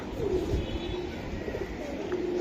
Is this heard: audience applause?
no